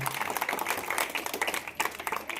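An audience applauds at a school stage event, a dense, steady patter of many hands clapping continuously at moderate loudness with no pause.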